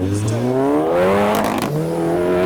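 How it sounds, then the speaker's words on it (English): Engine note of a car leaving a car show rises and then drops as revs climb and shift, with a sharp crackle mid-way; a voice speaks over it. "Okay, we've got the poppy cars now."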